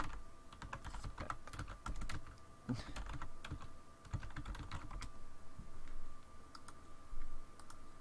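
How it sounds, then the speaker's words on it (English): Rapid keyboard typing at a computer, a run of close, crisp key clicks in uneven bursts with brief pauses, played alone without talk while entering a destination in Elite: Dangerous. "And type this in."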